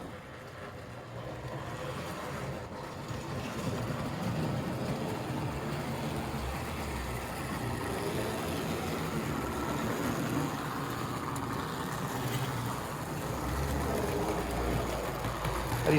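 A 1958 American Flyer S gauge Alco diesel model locomotive, a repaired service part, running backwards on its track at around 15 volts, giving a faint, steady mechanical whir and rumble for the whole stretch, with no talking.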